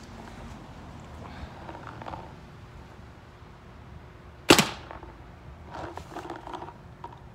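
A Tippmann A5 paintball marker fires over a chronograph: one sharp, loud pop stands out near the middle of a quiet stretch, with soft handling noise before and after.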